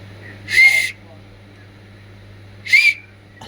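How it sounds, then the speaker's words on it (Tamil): Two loud, clear human whistles, each a short rising note lasting under half a second, separated by a pause over a faint steady hum. "விசில் அடிக்கிற ஸ்கில் நான் உங்களுக்கு சொல்லி தர போகிறேன்"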